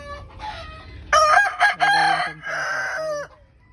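Chickens cluck and a rooster crows at a small backyard chicken farm, several loud close calls in quick succession with quieter clucking around them and no talk.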